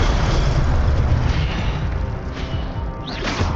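The Incendio fire spell cast in the Hogwarts Legacy video game bursts out as a loud, dense crash of roaring blast noise that stays sustained for a few seconds, ending with a brief whooshing sweep.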